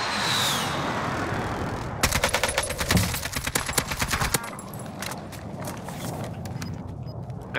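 Rapid automatic gunfire in Call of Duty Modern Warfare Warzone, a dense rattling burst of shots for a couple of seconds followed by scattered lighter shots and game ambience.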